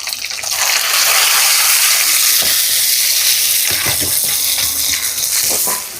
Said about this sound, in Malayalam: തക്കാളി ഇട്ടിട്ട് നമുക്ക് തക്കാളി നന്നായിട്ട് തന്നെ വഴറ്റിയെടുക്കണം കേട്ടോ, നന്നായി വേവിച്ചെടുക്കണം തക്കാളി